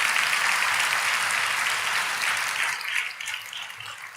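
A church congregation applauds during a sermon with dense, loud, continuous clapping that holds steady for several seconds, then loosens slightly as it tapers.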